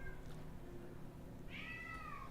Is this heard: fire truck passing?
no